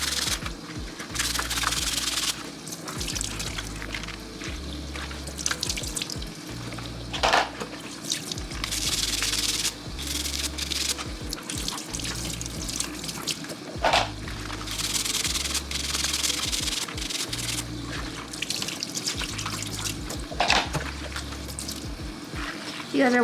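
Steady rubbing and scraping as a rusty old nail tool scrubs grime from a stovetop, close and continuous with short pauses between strokes.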